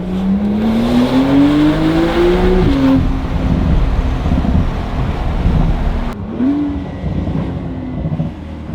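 A Porsche 992 Carrera fitted with a Valvetronic Designs titanium exhaust and OEM downpipe pulls hard through the gears, its engine note rising steadily, dropping at each shift and climbing again, loud and close throughout.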